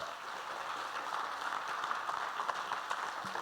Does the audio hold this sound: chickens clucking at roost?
no